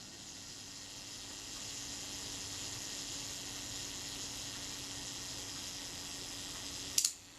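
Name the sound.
camera self-timer running and shutter firing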